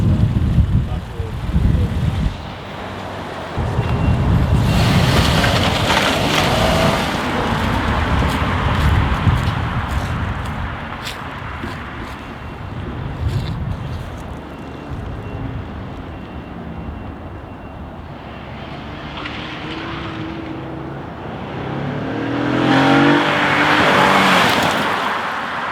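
A 2018 Acura TLX A-Spec V6 with an RV6 HFPC exhaust pulls hard under acceleration, its engine rising loud and close before easing off, then surging again near the end amid outdoor background noise.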